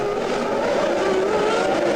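Formula 1 cars from the 1998 Monaco Grand Prix race past in a tight pack, their high-pitched engines merging into a loud, steady, sustained whine that holds without a break for the whole stretch.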